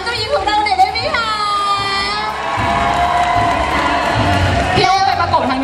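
Crowd cheering and applause for three princesses introduced on stage at a Thai entertainment event, loud whoops and shouts over clapping, with a voice and musical tones running through.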